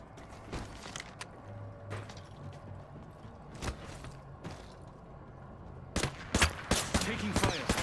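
Gunfire in Apex Legends comes as scattered single shots and short bursts, some crisp and close, others duller, building into a rapid, louder volley near the end over mechanical clatter from weapon handling.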